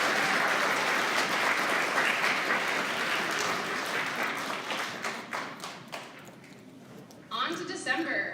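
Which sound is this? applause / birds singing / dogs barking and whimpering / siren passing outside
applause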